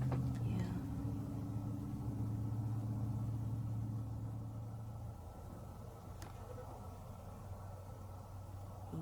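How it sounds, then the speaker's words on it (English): Distant road traffic drones as a low, steady rumble, fading slightly over time, with a faint click now and then. "Traffic seems extra loud tonight, doesn't it?"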